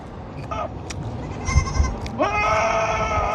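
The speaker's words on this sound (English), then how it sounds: "That damn goat." A goat bleats loudly nearby outdoors on a windy day, a couple of short calls followed by a longer wavering bleat, over steady wind noise.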